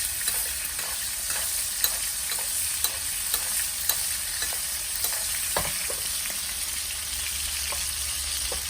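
Steak frying in butter with rosemary over medium heat, producing a constant bright sizzle with frequent small pops and spits spread evenly throughout.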